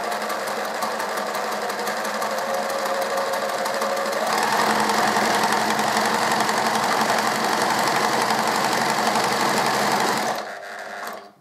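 A sewing machine stitches a centred zip seam steadily and continuously, its fast mechanical whir holding a constant rhythm, briefly speeding up midway before stopping near the end.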